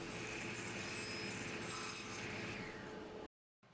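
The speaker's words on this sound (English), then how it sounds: "I went back to the table saw to square it up on the inside corners" A table saw cuts wood to square up the inside corners of a workpiece for a toddler's activity box, a steady loud whine and grind that runs unbroken, then stops abruptly near the end.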